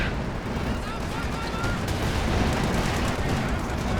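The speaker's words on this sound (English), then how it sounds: "Light artillery barrage ready to launch." A light artillery barrage rumbles on a Company of Heroes 2 battlefield as dense, continuous gunfire and blasts, loud and unbroken throughout, with a voice talking over the din.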